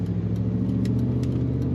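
A steady, low engine rumble from a 1994 GMC Sierra Sterling Coach conversion truck idling nearby, continuous and even throughout with a deep droning hum.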